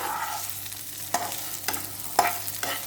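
Pieces of chicken turned over on a hot tawa during a tawa chicken fry: a steady close sizzle with a few sharp scraping clacks of the spatula as the pieces flip, roughly three separate turns.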